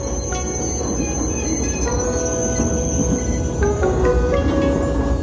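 A train on the Shan State railway rolls steadily along the tracks with a continuous rumble, metallic wheel squeals and occasional clanks, loud and close throughout.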